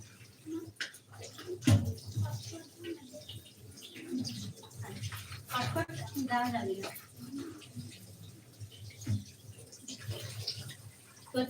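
Hinche greens picked from a village pond are washed by hand in water to clear away the tiny duckweed. Soft, uneven splashing and trickling come in short bursts close by, with quiet talk in the background.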